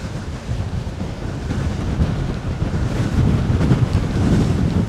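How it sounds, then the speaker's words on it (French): Strong wind buffeting the microphone outdoors, a continuous low roaring rumble that swells slightly louder toward the end, with no voices. "Il y a un vent de malade."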